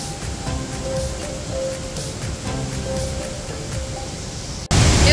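A large, powerful waterfall roars as a steady, dense rushing wash close by, then cuts abruptly to a louder, harsher blast of water noise at the end.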